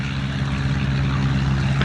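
Chipmunk WD373 propeller aircraft taking off at Leicester Airport, a steady loud engine drone with a strong low propeller hum holding constant throughout, close by and without talk.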